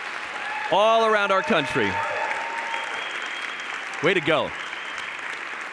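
An awards gala audience applauds the finalists, a steady wash of clapping running the whole time while a host speaks over it briefly at the start and near the end.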